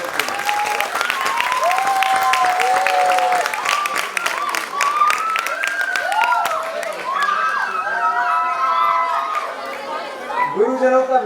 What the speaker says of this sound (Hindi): और हम सब मिलकर तालियां बजाएं अपने लिए